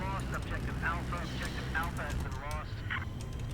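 An attack jet in the video game Battlefield 4 drones as a steady low engine rumble throughout, with someone talking over it.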